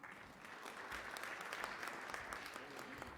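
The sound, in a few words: audience applause for a conference speaker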